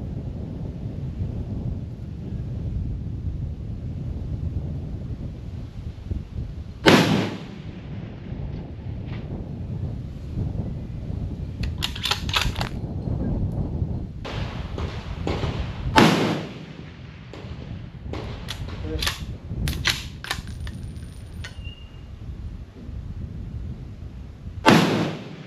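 Rifle shots at an outback shooting range near Darwin, several sharp loud reports spaced seconds apart over steady wind and outdoor background noise, each with a short echoing tail.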